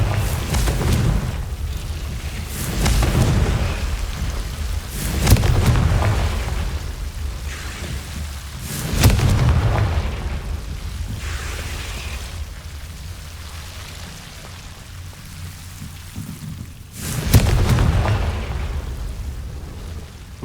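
Confringo fire spell blasts from Hogwarts Legacy, a video game, four heavy booming bursts with rumbling tails spaced several seconds apart, loud and dominant over a low ambient bed.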